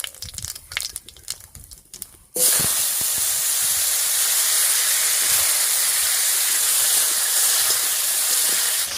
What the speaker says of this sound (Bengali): ফোড়নটা ভাজা হয়ে গেছে, এবার কেটে রাখা আলুটা এর উপর দিয়ে দিচ্ছি